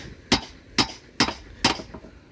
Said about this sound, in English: we've got to try and hammer it out now